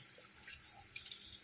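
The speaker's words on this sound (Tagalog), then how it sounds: "Sasabay natin yung tubig pampalambot." A little water trickles and splashes into a pan of spicy chicken adobo cooking with vinegar, a steady, faint liquid pour with light dripping and no talk.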